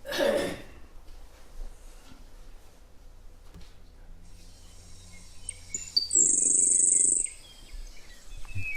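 A recorded sparrow song from Idaho rises as a brief, thin, very high trill well after a throat-clearing cough, with faint chirps and a quiet room in between.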